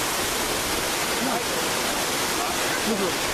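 Rancheria Falls, a broad, steady rush of falling water heard close and loud throughout, with faint voices murmuring underneath.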